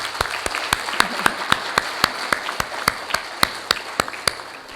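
A small group at an EU-Angola dialogue launch event claps in a steady, evenly spaced rhythm, each clap sharp and distinct, with no voices.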